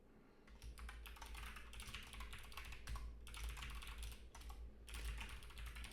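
Steady, fast typing on a computer keyboard while writing code, a dense run of close key clicks with a few short pauses, no voices, over a low constant hum.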